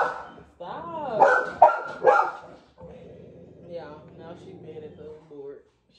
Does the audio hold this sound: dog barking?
yes